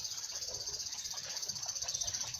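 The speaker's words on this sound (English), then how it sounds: "You can still hear the cicada, and that means it's really still summer" Cicadas in Japanese summer drone in a dense, bright, pulsing chorus, steady and moderately faint, with a quick rhythmic throb running underneath.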